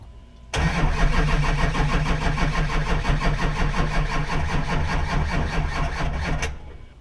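A Chevy Duramax LB7 diesel truck engine cranks and catches abruptly, then settles into a loud, steady, close-up diesel idle with a rough, clattering rhythm for several seconds before cutting off.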